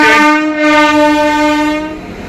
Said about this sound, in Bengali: আমাদের ট্রেন এখন প্রবেশ করলো লাক্সের স্টেশনে